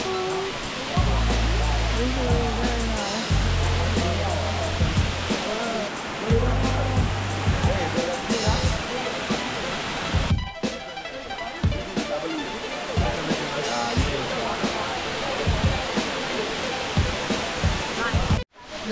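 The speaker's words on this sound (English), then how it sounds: "the waterfall, I think, is a lot nicer than the other one" Steady rushing roar of the waterfall at Kanto Lampo in Bali, continuous and fairly loud, with a brief dip midway and a voice talking over it in places.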